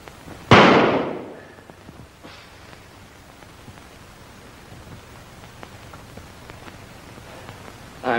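A single sharp gunshot bursts out loudly near the start of a scene in the 1942 wartime comedy film Hay Foot, then decays into faint background noise.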